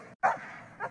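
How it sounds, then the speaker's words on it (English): A dog barks and yips in reaction to another dog far off, giving one loud sharp bark followed by a softer short yelp, close by. "Reacting at another dog off in the distance."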